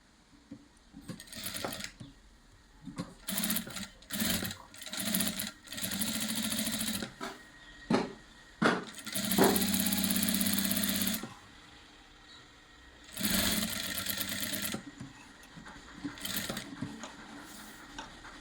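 A sewing machine stitches beneath the canvas of a kurta collar in repeated bursts, each run whirring loud and close before stopping, with short pauses and handling sounds between the runs.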